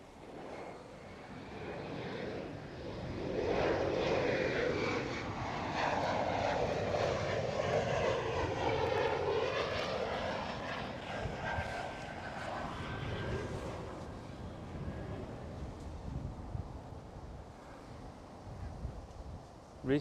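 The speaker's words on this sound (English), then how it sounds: "Another KLM Cityhopper" A KLM Cityhopper Embraer E175 airliner passes at Amsterdam Schiphol, its jet engine roar swelling to a broad, loud rumble with wind noise, then fading into a distant drone.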